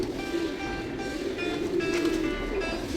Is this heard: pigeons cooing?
yes